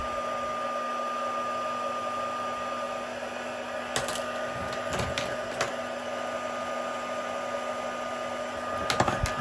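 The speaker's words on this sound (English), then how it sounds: "zap that quickly with my heat tool just to set it" A handheld heat tool blows hot air to set embossing powder on a stamped bee card, a steady close whirring hum with a few faint clicks and knocks.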